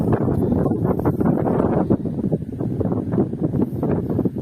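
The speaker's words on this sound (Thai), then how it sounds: "โอ้ยลมแรงมากครับตอนนี้" Strong wind gusts buffet the microphone outdoors in a field during rice-straw hay baling with a Matsui 124 baler, a loud, steady rumbling roar filling the whole stretch with no speech.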